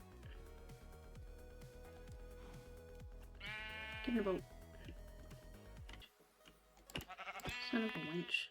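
Two short bursts of sheep bleating in Minecraft rise over a rhythmic backdrop of game music and clicks, with someone talking briefly between them.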